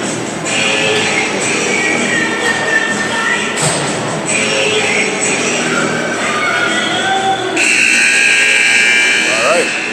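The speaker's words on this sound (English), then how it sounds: "and then the buzzer will sound." A hockey arena buzzer sounds at the end of the second period of an amateur game. It is a loud, sustained electronic tone that starts late and holds steady over the noisy rink ambience and voices.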